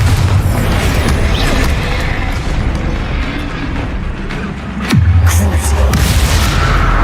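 Explosive spell blasts boom in the Hogwarts Legacy video game, a dense, loud run of rumbling explosions with a sharp new burst near the end, while a voice calls out spell names over the din.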